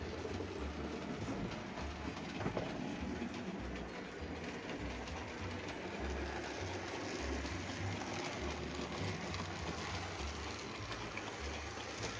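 B12 steam locomotive running on rails, a steady rumbling roll with rhythmic clickety-clack from the wheels throughout, continuous and moderately loud with no voices.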